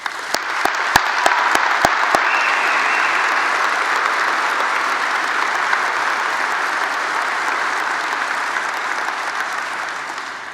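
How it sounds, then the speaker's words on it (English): Sustained audience applause fills a gala hall, opening with a few sharp separate claps before swelling into dense, steady clapping that holds loud throughout and only slightly tapers near the end. "please join me in a round of applause for the Kims"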